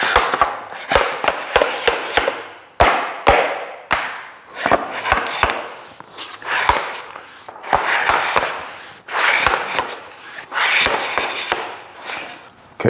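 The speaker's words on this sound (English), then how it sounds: "Lift up at a slight angle, tap the plank in." Tongue-and-groove laminate flooring planks are tapped into place with a rapid, irregular series of sharp knocks and thuds, close and steady over several seconds, with no talking.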